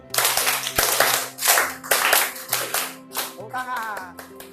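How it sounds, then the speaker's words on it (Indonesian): A group of children claps in a steady rhythmic pattern, several bursts of sharp claps in sequence, with a voice briefly audible near the end. "Tepuk 5 2 kali."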